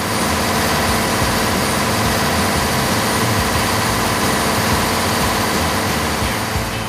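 A heavy fishing boat engine drones loudly and steadily throughout, a constant low rumble with a dense mechanical hum and no pauses, about 83 decibels near the engine.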